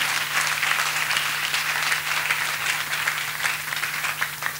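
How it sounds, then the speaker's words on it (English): A church congregation applauding, a dense steady wash of many hands clapping together, loud and sustained throughout with no pause. "Let us once again clap for Master Jesus."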